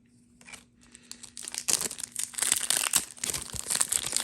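Foil wrapper of a Magic: The Gathering Dominaria United set booster pack being torn open, starting with faint crinkles, then loud crackling tearing and crunching close up that builds and continues to the end, with no voices.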